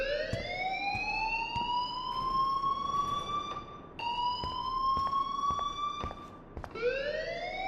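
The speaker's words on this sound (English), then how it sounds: "please turn off that alarm since that's your job" A game alarm from Life Is Strange blares continuously: a rising, wailing electronic siren tone that sweeps up, holds, then drops and restarts twice, loud and close with no speech over it.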